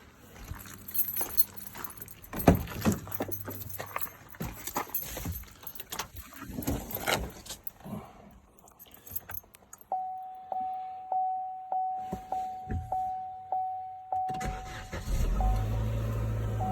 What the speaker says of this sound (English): And now we'll go start the car.